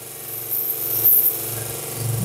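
A small belt sander runs steadily while the end of a sarkanda reed float body is bevelled against it, a loud continuous motor hum with a high whine above, no talking.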